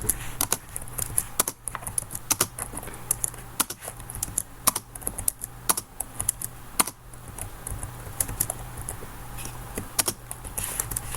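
Rapid keystrokes on a computer keyboard, mostly backspace and space presses, sharp irregular clicks close up and steady throughout, with no talking.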